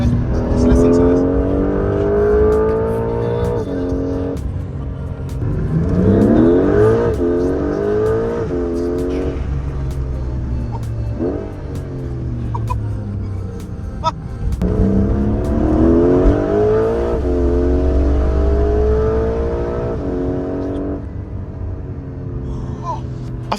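A 2025 Porsche 911 Carrera GTS engine revs hard through the gears in third, repeated rising howls climbing toward its 7,500 RPM redline, heard from inside the car over a steady road rumble.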